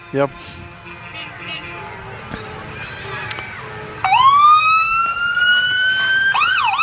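Wailing emergency sirens rise in pitch and grow louder as a Roane County Fire Rescue truck approaches during a Christmas parade in Oak Ridge, sweeping up and down, with faint crowd chatter underneath.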